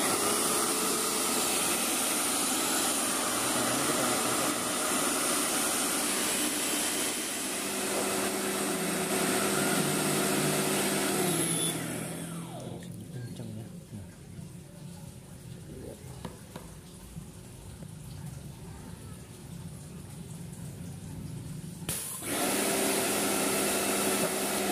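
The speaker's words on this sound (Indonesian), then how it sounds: "kita colokan strumnya dan kita hidupkan pompanya dulu" A water pump for cleaning a split air conditioner runs with a loud, steady rushing hiss that cuts out midway, leaving quieter handling noises, then starts again near the end.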